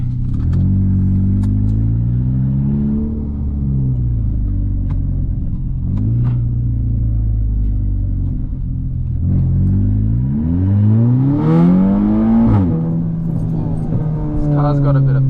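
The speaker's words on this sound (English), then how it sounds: "Sheesh. For having a 2-litre motor, it's got a bit of punch." A VW Golf Mk6 R with a 2-litre engine, stage 2 tune and downpipe revs repeatedly, its deep exhaust rising and falling in several climbing pulls with cabin vibration, while people talk over it.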